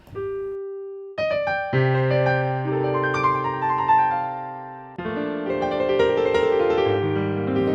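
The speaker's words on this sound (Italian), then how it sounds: "La cosa pazzesca è il suono del piano" Sustained digital stage grand piano chords ring out clearly, a few struck notes leading into rich, layered harmonies with a second chord entering midway; no talking.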